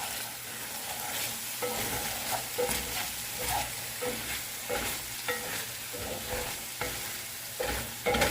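Onions frying in a cast iron pan while being stirred, a close sizzle broken by repeated scraping and clacking strokes from the spoon, with no voices.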